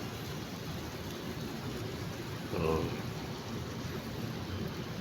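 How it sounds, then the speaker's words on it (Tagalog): Steady rain hisses throughout, with a brief low rumble rising near the middle, like distant thunder or a gust. "Ayan nga po ngayon at pumapatak-patak na naman yung ulan"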